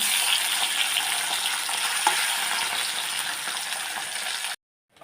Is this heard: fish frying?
yes